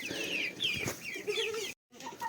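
Several chicks cluck and chatter close by in a steady, busy stream while feeding at breakfast, broken by a brief silent gap before the clucking resumes.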